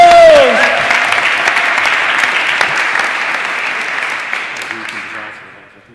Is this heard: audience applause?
yes